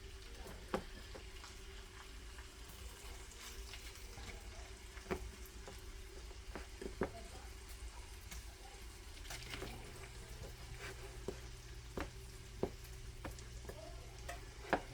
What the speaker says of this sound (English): You can hear them already sizzling away.